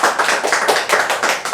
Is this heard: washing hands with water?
no